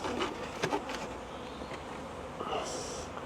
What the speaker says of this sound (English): Lots of bees flying around everywhere.